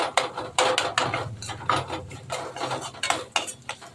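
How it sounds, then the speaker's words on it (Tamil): Cooked potato mashed in a pan with a utensil for potato rice, giving repeated soft squelching scrapes and knocks against the metal in an uneven rhythm, close and fairly loud. "உருளைக்கிழங்கு நல்லா இதுலேயே மசிக்கிறதுக்காக நம்ம மசிச்சுக்கலாம்"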